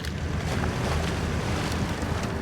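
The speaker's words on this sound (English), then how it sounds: "when you're going through the water, the vehicle just kind of floats on the surface" A vehicle floating on river water in a video game, with a steady wash of water, surf and wind noise running continuously and fairly loud, no voices.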